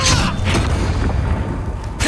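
A Confringo fire blast spell erupts in the video game Hogwarts Legacy, a loud, close booming whoosh with a deep rumbling body that sustains briefly, mixed with other combat noise.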